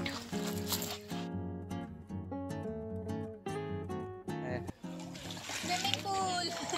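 Water splashes and sloshes in a farm water tank used as a swimming pool, with children's voices and chatter running through the scene and louder splashing near the end.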